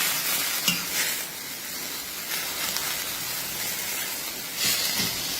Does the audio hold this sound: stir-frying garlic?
yes